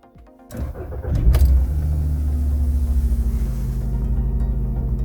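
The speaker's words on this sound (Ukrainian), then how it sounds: "Запускаємо двигун." A Volkswagen Passat engine starts with a short cranking burst and then settles into a steady, close, low rumbling idle that continues to the end.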